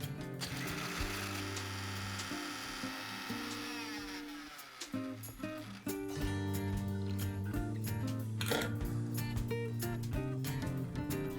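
A kitchen blender grinding boiled potatoes and cashew nuts into a paste: a close, continuous motor whir with shifting pitch and rattling, its tone dipping and changing as the mixture turns.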